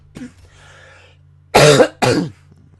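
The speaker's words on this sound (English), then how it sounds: "Sorry about the cough." Two sharp, loud coughs in quick succession, close up, following a faint throat sound, against a low steady hum.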